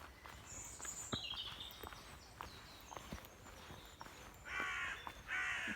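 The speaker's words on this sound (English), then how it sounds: "The crows, hear them a mile off." Crows caw several times in an ancient bluebell wood, moderately distant, with footsteps crunching along a path between the calls and a brief bright bird chatter near the end.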